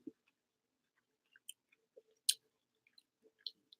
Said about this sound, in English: That was a big chunk of pineapple.